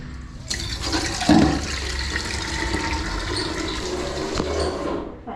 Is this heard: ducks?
no